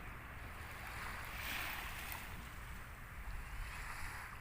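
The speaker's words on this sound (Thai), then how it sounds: "คลื่นเงียบสงบมากครับ" Calm sea waves wash softly onto Bang Saen beach in Thailand, a faint, steady, distant surf with light wind and no voices.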